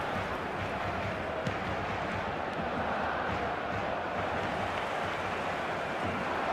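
A virtual stadium crowd in an eFootball match gives a steady, dense murmur and roar, unbroken and fairly loud throughout, with no commentary heard over it.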